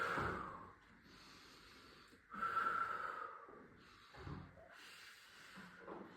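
Breathing during a core workout: soft inhales and forceful, airy exhales through the nose and mouth, close and quiet, coming in a few separate pushes with pauses in between.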